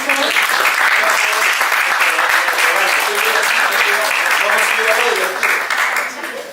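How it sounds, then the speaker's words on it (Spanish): An audience at an open class on a constitutional proposal about education rights bursts into loud, sustained applause, dense clapping that holds steady and fades slightly at the end. "Un aplauso."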